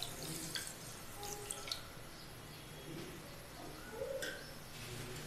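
Half a cup of water poured into a pan of sugar on the stove to make sugar syrup for bread jamun, a faint, steady trickle with birds chirping softly in the background.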